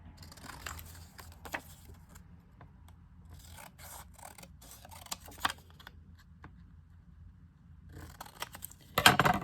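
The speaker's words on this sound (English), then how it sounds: "For now though, I'm just gonna cut out my pocket." Scissors snip and rub through paper while a pocket is cut out for a December Daily scrapbook page. The cuts come as quiet, close, intermittent bursts with pauses between them, and a louder rustle sounds at the end.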